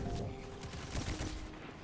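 Dense automatic gunfire from the video game Destiny 2 rattles continuously, loud and fast, filling the whole stretch.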